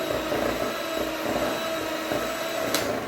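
An electric mixer beats room-temperature butter and powdered sugar for muffin batter, a steady motor whir holding constant throughout with a brief sharp clink near the end, close by with no talking.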